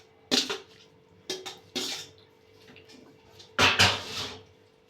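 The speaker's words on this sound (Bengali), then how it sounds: "তো আমি মাংসটা ঢেলে নিচ্ছি।" Chicken meat tipped from a container into a bowl in a home kitchen, giving a few short clattering knocks of the vessel with a wet slide, close and fairly quiet, spaced irregularly.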